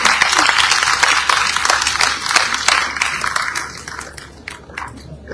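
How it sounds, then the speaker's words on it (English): An audience at a presidential event claps loudly for a guest invited to give the vote of thanks; the applause is strong at first, thins out and fades toward the end, leaving scattered claps. "Please put your hands together as I welcome Charlie Bill for the vote of thanks."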